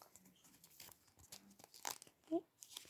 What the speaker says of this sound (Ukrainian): Тепер відкриваємо цей пакетик.